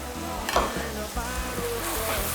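Garlic sizzling in hot fat in a pot while being stirred, with scraping spoon strokes over a steady frying hiss for a few seconds; a cajun-style crawfish dish is being started.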